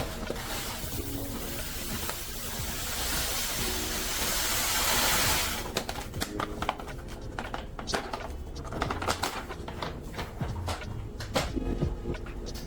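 Dry corn poured into mash water in a home brewing setup for a cream ale, a steady hissing, pattering rush that swells for about five seconds and then gives way to scattered clicks and knocks.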